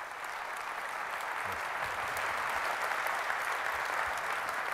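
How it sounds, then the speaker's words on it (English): Steady crowd applause during a security keynote at the Splunk .conf2014 conference, honouring a NASDAQ staff member in the audience; even, sustained clapping from a large room, moderately distant and unbroken by talk. "let's have a round of applause for Rob"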